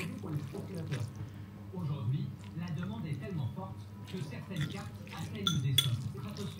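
Homemade spelt-flour spaghetti is stirred and tossed in a dish, with soft clinks and scrapes of utensil on dishware in irregular bursts, faint and close, while someone talks.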